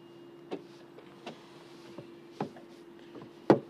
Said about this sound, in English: Oh, I locked it twice then.